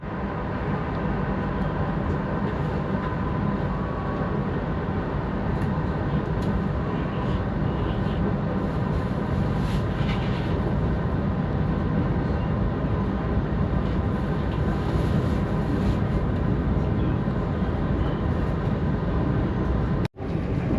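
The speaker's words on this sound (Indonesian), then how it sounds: "Sudah diberangkatkan dari stasiun Weleri dan pemberhentian terakhir ya sebelum Semarang" A KA Kaligung economy train pulls away from Weleri station, a steady loud rumble and rolling clatter filling the whole stretch, with a brief sharp knock near the end.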